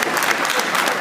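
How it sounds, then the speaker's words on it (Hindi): Enthusiastic audience applause welcoming Indian External Affairs Minister S. Jaishankar at an event in Janakpuri, Delhi: dense, loud clapping throughout, with no speech on top. "अब मैं आपसे कहूंगा जोरदार तालियां बजाएं"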